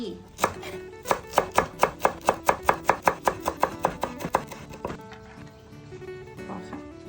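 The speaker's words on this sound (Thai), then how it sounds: "หั่นผักชี" Rapid, steady knife chops of coriander on a cutting board, around twenty sharp strokes in quick rhythm, then a pause and a few scattered lighter taps.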